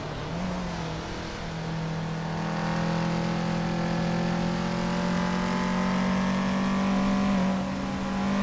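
Race car engines drone steadily at the start of a race in a racing video game, a loud sustained whine that swells slightly as the cars accelerate, with no talking.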